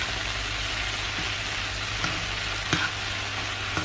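Barberries sautéing in melted butter make a dense, steady sizzle throughout, with a couple of soft utensil knocks near the end and no voices.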